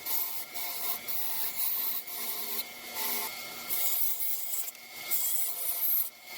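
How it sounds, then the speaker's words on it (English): A freshly repaired grinder works over broken plastic fuel door pieces from a 2003 Suburban, making bursts of abrasive rubbing and sanding that start and stop in short passes, close and moderately loud. "we'll use that new grinder just fixed"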